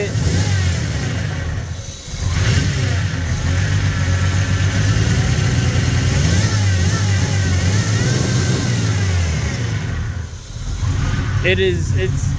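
A car engine idles unevenly with a lumpy, stumbling rumble, close by, while a person talks over it.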